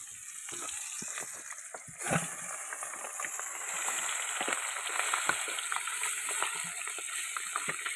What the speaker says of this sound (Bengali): এই যে আমাদের মাছ ভাজা শুরু হয়ে গেছে